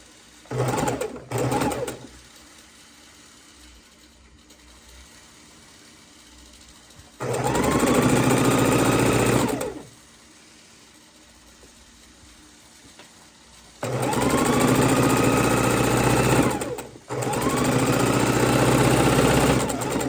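Sewing machine stitching pieces of quilt fabric together, running in three loud steady bursts of a few seconds each, with quieter gaps of handling between them and no talk.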